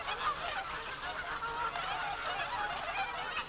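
A large flock of geese at Slimbridge wildfowl reserve honks continuously, many overlapping calls forming a dense, fairly faint chorus with no talk.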